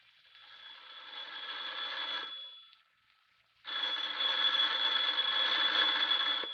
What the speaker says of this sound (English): Your phone's ringing, Maley.